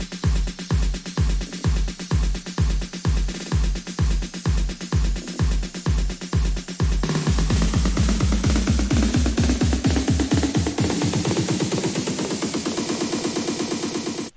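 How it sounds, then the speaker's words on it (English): Snare drums in a progressive house build-up: a steady, loud run of snare hits repeating through the first half, then switching to denser, quickening rolls that rise in pitch toward the end, with no talking. "for the second build-up, I use different snares actually"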